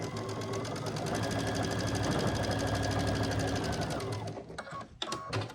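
A sewing machine stitches quilt scrap pieces at a quarter-inch seam in a fast, steady motorized whir lasting about four seconds, then slows and stops, followed by a few small clicks and handling sounds.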